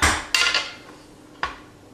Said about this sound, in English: I'm actually going to take out another bowl cutting board